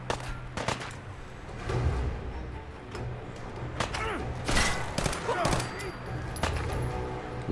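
A gun fires repeatedly in Fallout 4, with sharp, punchy shots in irregular bursts over a steady low background, with brief moments of talk mixed in.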